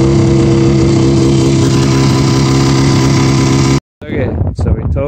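A vintage Roll-O-Flex snowmobile engine, overfueled and fouling its plugs, runs loud and steady up close, then cuts out briefly before restarting with rough, uneven revving.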